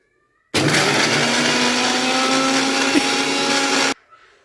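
A blender grinds ridge gourd peel chutney in one continuous, loud, close roar lasting about three seconds, starting and stopping abruptly, with a faint rattle as it winds down.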